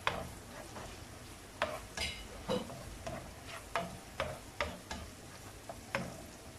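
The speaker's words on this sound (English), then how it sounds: "This is the garlic and the onion. You need to saute in oil." Garlic and onion sautéing in oil give a low, soft sizzle under a string of light scraping and tapping strokes as a utensil stirs the pan, roughly one every half second, near and quiet.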